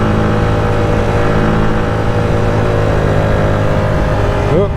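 Yamaha MT motorcycle cruising on a smooth road, a loud steady engine drone with constant wind rush, the pitch rising briefly near the end.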